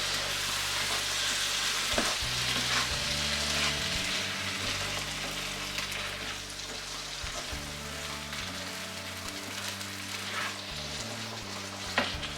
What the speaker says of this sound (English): Now I'll add in the chanas or the chickpeas. Give it a good stir.